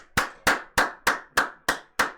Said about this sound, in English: Giving Brian a big clap there.